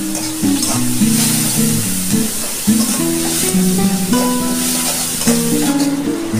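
Chopped onion fries with turmeric and salt for chira pulao, a loud continuous sizzle with stirring scrapes beneath a tuneful melody playing throughout.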